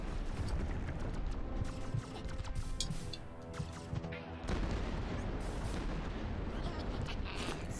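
Gunfire in the video game Supraland, with dense repeated mechanical shots and booming blasts that fill the whole stretch, loud and continuous with layered clanks.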